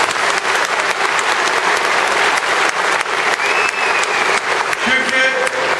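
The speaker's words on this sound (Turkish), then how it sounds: "İyi bir alkış istiyorum kendisine." Crowd at a groundbreaking ceremony for the 2013 Mediterranean Games facilities in Mersin applauding, a loud, dense, continuous clapping that stays steady throughout, with faint tones rising in the background.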